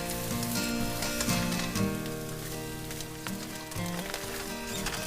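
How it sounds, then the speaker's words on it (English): Cooked bacon sizzles loudly as it is stirred into sautéed perogies, a crackling hiss with scraping stirs and a few tonal clanks of the pan, close and continuous. "now it's time to add in that bacon we cooked up. And stir it in as well and let it heat back up."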